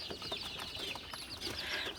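Mixed flock of native and broiler chickens on a poultry farm, a steady chorus of soft overlapping clucks and chatter at close range for the whole stretch, with no voices.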